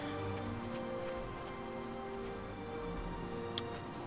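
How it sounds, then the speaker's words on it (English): Steady rain falling in the video game Oblivion while travelling at lower elevation, a continuous even hiss of drops on surfaces with no break or speech. "And of course it's raining now instead of snowing because we're a bit lower down."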